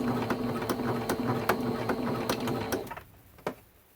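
A sewing machine stitches quilt binding in a steady run of rapid stitches with faint ticking clicks, close and moderately loud, then stops and leaves a few soft clicks.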